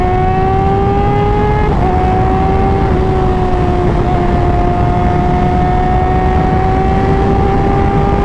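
A big bike motorcycle overtakes on an open road, its engine a loud, steady drone that drops in pitch at each gear change, carried over heavy wind rush.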